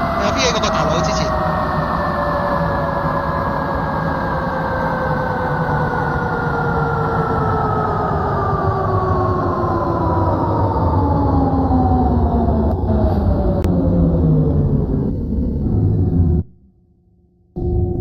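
A simulated 1979 MTR Kwun Tong Line train in the Open BVE simulator runs with a loud, steady motor drone and falling motor whines as it slows, then cuts briefly to near silence just before the end.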